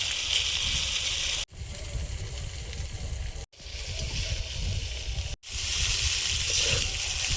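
Chow mein noodles frying in a wok with chicken and onion, a loud, steady hissing sizzle broken by three short abrupt gaps, heard up close with no talking.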